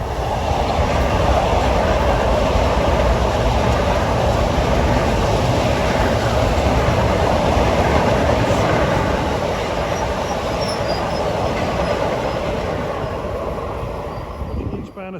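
A Long Island Rail Road train rumbles past at Jamaica/Hollis, loud and close, with steady rolling wheel noise and a faint high squeal that eases off toward the end.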